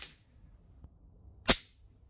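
A Cybergun Desert Eagle CO2 air pistol firing 4.5mm BBs gives one sharp, loud crack, close by and alone, with a faint tick just before it.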